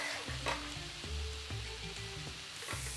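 Tomatoes sizzle steadily in a frying pan, a continuous crackling hiss with soft clinks of stirring, close up and without talk.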